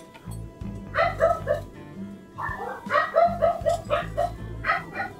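Several dogs bark and yip in bursts, fairly close, over a low steady background hum, with a voice speaking briefly.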